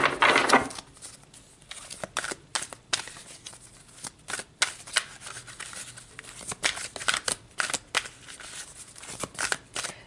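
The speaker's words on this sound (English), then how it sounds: "So let's pull some more cards." Tarot cards riffled and shuffled by hand in quick bursts of crisp flutters and slaps, close and fairly loud with brief pauses between handfuls, no talking.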